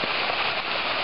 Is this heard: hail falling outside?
yes